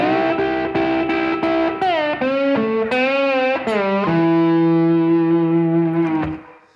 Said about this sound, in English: I love playing this on slide guitar